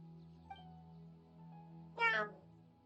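A house cat gives a single short meow that is fairly loud and close. It comes over a steady low hum from a game playing in the background, with a faint click earlier.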